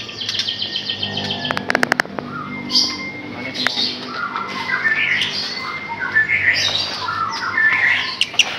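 Several white-rumped shamas (murai) sing and chirp in a captive bird setting in Boyolali, with bright whistled phrases and squawks overlapping, close and fairly loud, with some sharp clicks early on and a little background talk.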